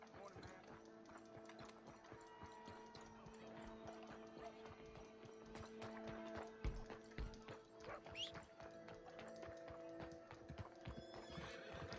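A horse in the Red Dead Redemption 2 video game whinnies and clip-clops with its hooves, the game's music and ambience underneath. A voice talks across parts of it, and the sounds stay fairly quiet.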